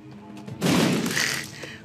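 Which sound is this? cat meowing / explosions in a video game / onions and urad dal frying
explosions in a video game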